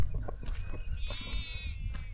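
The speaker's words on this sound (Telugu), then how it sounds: "గొర్రెలు అరుస్తున్నాయి." Sheep bleat outdoors after rain in rural Telangana, several wavering cries from a small flock at moderate distance over soft ambient noise.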